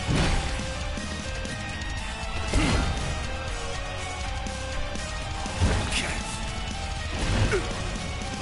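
Heavy crashing impacts from Gladiolus's Earth Shatter attack in Final Fantasy XV, several loud smashing bursts spaced a few seconds apart over a dense, busy battle background.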